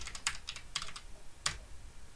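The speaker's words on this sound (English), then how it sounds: "the way you connect is by typing the IP address" An IP address typed on a computer keyboard: a few quick, crisp key clicks in short bursts, close and fairly quiet, with no talk.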